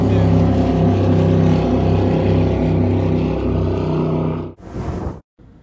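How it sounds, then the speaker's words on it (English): A speedboat's engine drones steadily and loud on Lake Havasu, Arizona, with wind and water rush behind it. Near the end it cuts off abruptly, then a brief burst of sound follows. "Standard cut boat at Lake Havasu."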